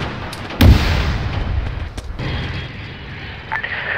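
A tank main gun fires in the ARMA 3 video game, one loud heavy boom with a rumbling tail over steady battlefield background noise, followed by fainter distant thuds.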